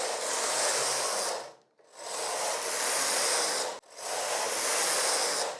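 A Brother 965i knitting machine carriage knits rows of waste yarn in three long, loud rasping sweeps, each separated by a brief pause at the end of the row.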